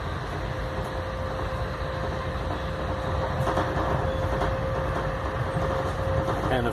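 Steady rumble and rattling of a coaster passenger train running along the Pacific coast in California, heard from inside the carriage, with a continuous low drone, a faint sustained tone and light clatter throughout.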